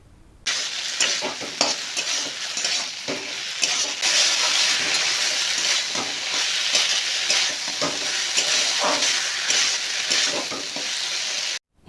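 Okra cooked with a paste of ginger, cumin and mustard is stirred in a hot pan, producing a loud, sustained sizzle with repeated scraping of the spoon against the pan over about eleven seconds.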